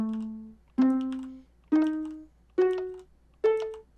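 Tuned note blocks in the video game Minecraft playing five single plucked tones, each a step higher than the last, evenly spaced and ringing briefly, clean with nothing else present.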